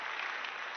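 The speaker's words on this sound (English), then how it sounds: "you got some people clapping for you" Applause sound effect: a short, dense burst of crowd clapping, steady and even throughout.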